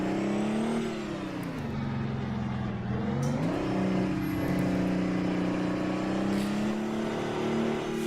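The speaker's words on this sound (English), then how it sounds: "I can't drive this truck with this sound." Heavy truck engine in American Truck Simulator accelerating, a steady low diesel drone whose pitch dips and then climbs as it revs up, continuous and close, with no talk over it.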